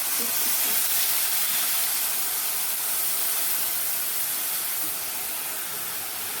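Ground tomato hitting hot oil on a dosa pan gives a steady, loud, broad hiss of sizzling that holds evenly throughout and slowly eases a little toward the end, with no voices.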